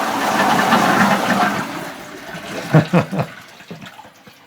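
An old chain-pull toilet flushes with a loud, rushing waterfall of water that tapers off, a few gurgling surges near the end, heard close up in a farm museum.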